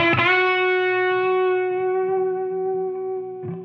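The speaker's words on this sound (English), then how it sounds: "Now if you jiggle the strings," Jiggled electric guitar strings played through a Flamma FC10 noise gate pedal ring out as one bright, sustained chord that slowly decays, with a second small strum near the end, loud and close with no voices.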